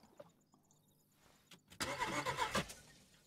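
A car engine fails to start in the video game DayZ, where the car has a ruined hood and two wrecked front tyres: quiet clicks, then a loud cranking churn that runs about a second before dying away.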